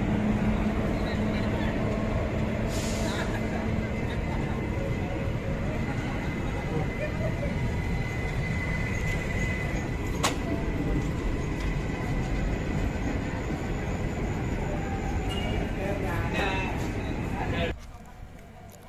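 The Hazarduari Express passes a station platform without stopping, a steady loud rumble of wheels and carriages running the whole time, with a few sharp clanks, then dropping off abruptly near the end.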